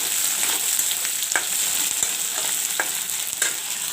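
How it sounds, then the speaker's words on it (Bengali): Brinjal and prawns frying in oil in a pan, a steady sizzle and crackle with occasional sharper pops and spatters, heard close and alone. "বেগুনটা ভাজা হবে বলে আমি একটুখানি ঢেকে দিচ্ছি"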